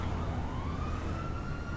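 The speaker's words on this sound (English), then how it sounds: "that siren's like in my ear" A police siren in the online mode of the game GTA V wails as a loud, rising tone over a dense rumble of engine and street noise, heard close and continuously.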